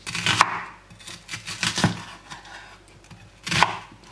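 A knife chops through a big onion on a board in three distinct, fairly close strikes spread apart, with quieter scraping and handling sounds between them and no talking.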